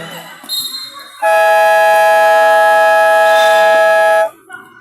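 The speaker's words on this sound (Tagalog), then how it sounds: "Buzzer na lang maririnig." A loud, sustained basketball game buzzer blares for about three seconds at the end of the first quarter, cutting through crowd noise and a commentator's voice.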